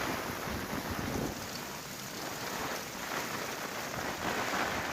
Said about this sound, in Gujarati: વરસાદી માહોલ જામ્યો